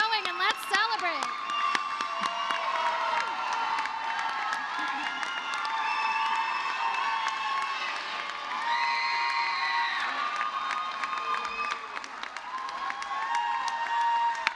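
The crowd at a 2024 adult high school equivalency graduation keeps up sustained applause mixed with loud cheering, whoops and excited shouts, steady and dense for about fourteen seconds.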